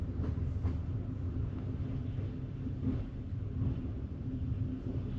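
A Russian-built first-class sleeper train on the Tbilisi to Yerevan line crosses into Georgia near Sadakhlo, its low wheel rumble and carriage vibration droning faintly and continuously, heard from inside the car.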